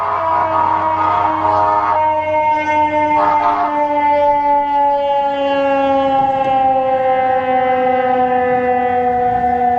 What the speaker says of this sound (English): Sounds like the ambulance is coming.